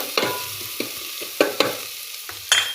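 Turmeric and ginger-garlic paste being sautéed in a pan for varan phal, with a few separate spoon scrapes and stirs over a faint sizzle, close and clear, no voices.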